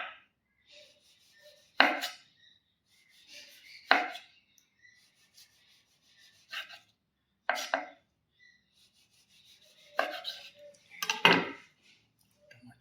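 A knife chops tomatoes on a board for a green salad: sharp, isolated thuds spaced a second or two apart, close and crisp, with quiet gaps between cuts and no talking.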